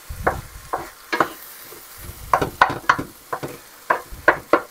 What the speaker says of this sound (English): Okay, let's stir this.